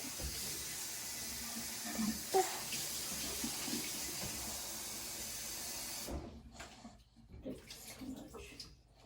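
Cool water gushes steadily from a tap into a bowl, close and full-bodied, for about six seconds before shutting off, with voices talking over and after the flow.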